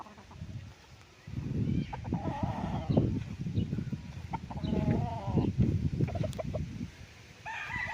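Chickens on a rural farm house property in Nagcarlan, Laguna cluck and call in irregular bursts at moderate distance, with some louder squawks over a low background rumble.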